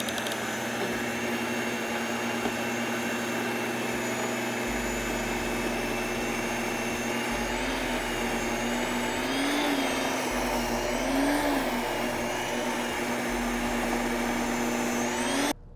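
A NutriMill Impact grain mill runs steadily on setting 7 with its feed rate fully open, a loud continuous motor whine with a low hum underneath, holding even for the whole stretch with no talking.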